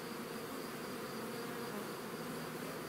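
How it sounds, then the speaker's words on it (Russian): Many bees swarm around a beehive body, making a dense, continuous buzzing drone that fills the air steadily without pause. "Тут пчелы, ну много, на этот корпус это много пчелы."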